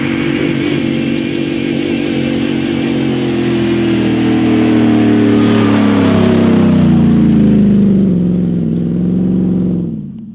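A Ford F-150 Baja truck's engine roars loud and close, holding a strained drone that slides downward as it builds speed toward a sand jump, then cuts off sharply at the end.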